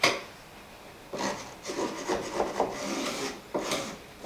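A scraper pushes glued mesh flat across a bedroom wall during an old colonial house renovation, giving repeated rough rubbing and rasping strokes in uneven bursts, close and fairly loud, with no talk.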